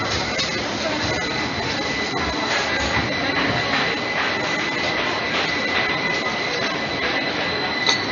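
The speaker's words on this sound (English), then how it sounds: "And there's the tram coming the other way." Steady rumbling and rattling with a high whine from a tram going by nearby in Seville, broadband and continuous throughout, with faint background voices.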